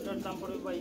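Copper-black Archangel pigeons for sale give a low, soft, continuous cooing, heard close and faint with a voice overlapping it.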